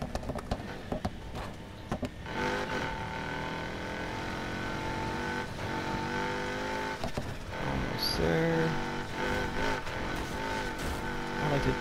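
A race car engine in Need for Speed Heat, its turbo or supercharger setup revving hard through a long run, a loud sustained roar with shifts and surges plus a few sharp clicks, continuous throughout.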